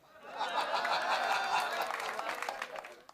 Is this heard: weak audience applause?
yes